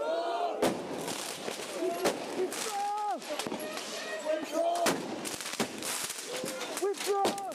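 Fireworks thrown at police officers burst in repeated sharp, loud bangs and crackles amid a chaotic riot scene, with shouting voices throughout.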